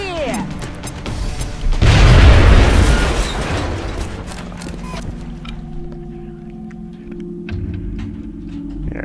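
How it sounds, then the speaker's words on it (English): A frag grenade detonates in the X-Com strategy game with one loud, broad blast that swells over about two seconds, then fades into a low rumbling hum and ambient tones. A voice talks over parts of it. "You have a frag grenade. Why don't you use that?"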